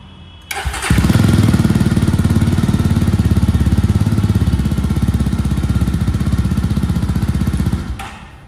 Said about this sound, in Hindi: कुछ ऐसा एग्जॉस्ट नोट आपको इसमें देखने को मिल जाता है, काफ़ी प्यारा साउंड यहाँ पर देखने को मिलता है।